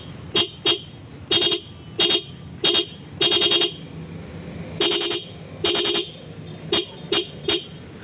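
Newly installed intermittent horn on a Honda Scoopy scooter, switched by a flasher relay module, sounding in loud, regular on-off bursts of about a dozen short and longer beeps, close up with no talk.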